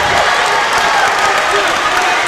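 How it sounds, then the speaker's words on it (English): Gym crowd at a high school basketball semifinal roars with steady, loud cheering and applause, a dense continuous wash of noise filling the arena without a break. "The Middle crowd has come alive."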